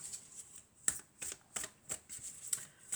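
Tarot cards being shuffled and drawn during a general and love reading, with a steady run of crisp riffling snaps and soft card slaps, about six distinct bursts close up and alone, with no talking.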